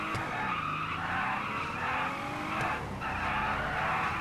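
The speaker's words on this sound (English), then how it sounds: "Doing burnouts. Trying to. This van really can't do them." Tires squeal steadily as a van spins its wheels in a standing-still burnout, the engine revving loudly underneath with no pause across the stretch.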